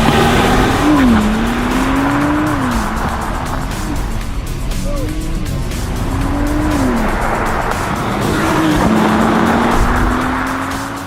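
A Porsche Panamera Sport Turismo with a 2.9 litre 330 bhp turbocharged V6 and electric assistance drives past loud and close, its engine note climbing and dropping through gear changes.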